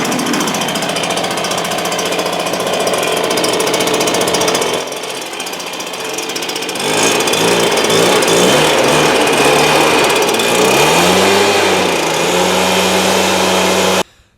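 A handheld power blower drying out a car's engine bay after washing, a loud steady whine that dips briefly midway then returns stronger with wavering motor pitch until it cuts off abruptly at the end.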